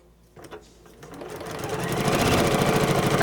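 Sewing machine stitching through quilt fabric, starting with a few slow stitches and then speeding into a steady, rapid, close mechanical whirring rhythm.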